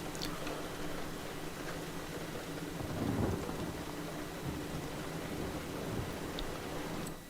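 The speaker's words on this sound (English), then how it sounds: "it's raining" Rain falls steadily outdoors, a faint, even hiss with a soft low rumble of thunder swelling near the middle.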